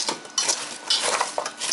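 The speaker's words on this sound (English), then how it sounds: "now I'm going to put the apples in, and then I'm going to mix it up." Utensil stirring sliced apples for apple pie filling in a bowl, giving a few close, irregular clinks and scrapes of metal against the dish.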